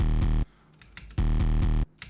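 An 808 drum fill distorted with an abrupt Flatter wave shaper, two loud buzzy bursts of saturated low drum hits that each cut off sharply, separated by a quieter gap with soft clicks.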